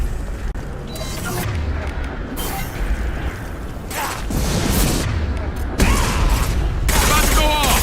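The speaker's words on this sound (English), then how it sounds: "Concussive shot ready." Concussive shot ability firing in Mass Effect 2 amid a busy combat mix of mechanical clanks, booms and crackling bursts that swell louder toward the end, with game voices in the background.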